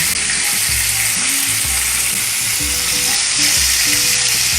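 Chicken wings frying in a pan of hot oil give a steady, dense, hissing sizzle close up, with a low hum and faint clinks running beneath, and no voices.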